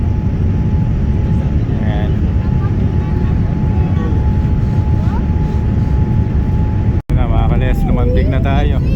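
Airplane landing at Abu Dhabi airport, heard from inside the cabin as a steady loud engine and airflow roar with a thin whine, broken by a brief dropout and jolt near the end.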